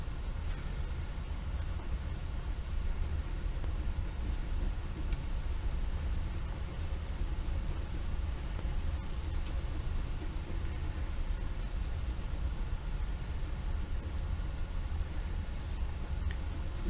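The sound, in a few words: drawing orange flame layer on paper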